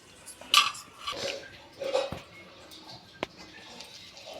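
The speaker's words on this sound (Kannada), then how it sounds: "ಒಂದು ಮುಚ್ಚಳನ ಮುಚ್ಕೊಂಡ್ಬಿಡ್ತೀನಿ, ಅಂದ್ರೆ ಚಂದ ಬೇಯ್ತದ್ರಿ ಅದು ದೋಸೆ" A metal lid set down on a pan of multigrain dosa cooking on a gas stove, a few clattering, clinking knocks of metal on metal at close range, fairly faint amid quiet kitchen noise.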